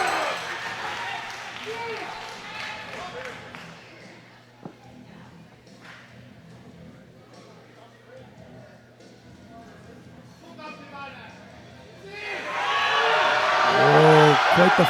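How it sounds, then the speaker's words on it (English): Crowd at the 2018 World Classic Powerlifting Championships, men's open 105 kg, cheering and applauding a German lifter's 325 attempt: loud roaring applause opens, fades beneath commentary talk, then swells again strongly at the end. "And the Germans in the crowd approve."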